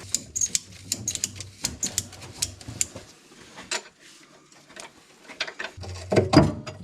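Metallic clicks, ratcheting and clattering taps as a bolt is worked loose on the engine of a mono boom skid steer, a quick uneven run of close, sharp clicks with a short lull, then a louder cluster of knocks near the end.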